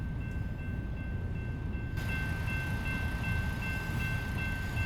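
A freight train rolls past in American Truck Simulator, a steady broad rumble with a faint high tone, continuous and fairly close, with no speech.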